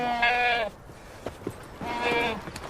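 A goat gives two drawn-out, wavering bleats separated by a short gap filled with a few soft knocks and shuffles, each cry loud and close.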